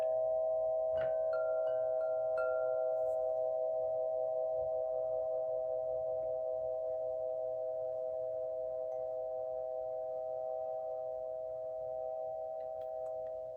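Swing chimes ring with a steady, sustained metallic tone that hangs evenly for many seconds, with a few brighter struck notes early on and a soft, quiet room background.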